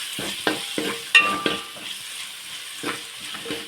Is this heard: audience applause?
no